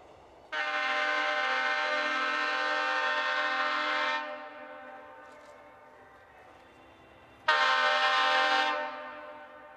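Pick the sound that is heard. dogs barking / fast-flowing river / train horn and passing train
train horn and passing train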